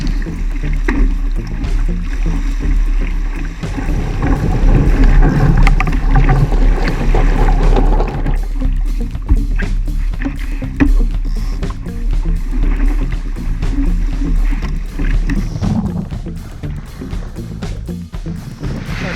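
A sailboat beating through rough, wet water in cold, gusty wind of around 20 knots, with a loud, continuous roar of wind and rushing water and no talking.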